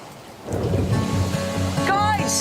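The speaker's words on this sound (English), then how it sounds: "The return of the rain proves to be their salvation." Heavy tropical storm rain on an island starts abruptly and pours steadily, loud and close, with a rumble beneath it.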